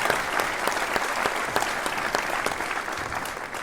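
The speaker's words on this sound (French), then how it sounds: "on peut aussi faire encore un maximum d'applaudissements pour tous les professeurs" Concert audience clapping for teachers and a conductor after a student performance, sustained full applause with some distinct individual claps standing out, gradually easing slightly toward the end.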